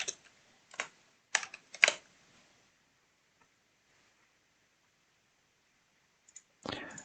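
Scattered computer mouse clicks during a live online Yu-Gi-Oh match, a few sharp close clicks in the first two seconds, then quiet before a final short burst.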